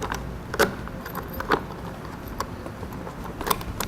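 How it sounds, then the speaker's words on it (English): Keys jangling and clicking while locking end caps onto a Rhino-Rack 2500 Series roof rack on a 2017 vehicle, with several short metallic clinks spread over a few seconds against steady outdoor background noise. "take the keys,"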